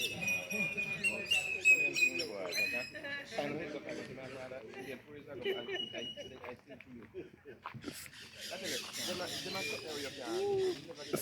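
A small bird sings a sweet melody of bright chirps and tweets, repeated phrases rising over steady background noise, fairly close.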